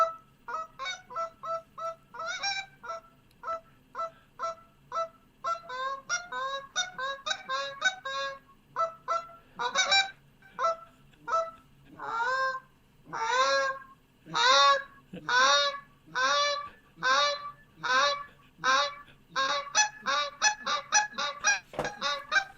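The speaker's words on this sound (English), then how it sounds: "can we hear a goose chorus again one more time?" A recorded chorus of many geese honks loudly and continuously, overlapping calls in quick pulsing bursts that build in strength, close and clear, with a low hum beneath.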